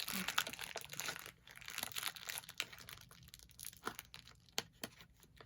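A plastic bag crinkles and rustles quietly as it is handled and folded, with soft irregular crackles scattered throughout and no talking.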